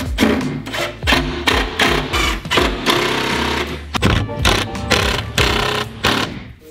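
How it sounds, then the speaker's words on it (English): A power drill fitted with a larger bit countersinks screws in wooden spacer boards for a glass-front cabinet build, giving repeated loud bursts of whirring and grinding with brief pauses between them, close up. "use a bigger drill bit so that I can countersink them just so they'll be flush with the surface"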